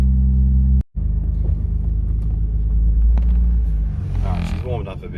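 A classic small car, similar to a Suzuki LJ50, idles as its engine warms up, a steady low rumble that cuts out briefly near the start and then carries on with light mechanical noise.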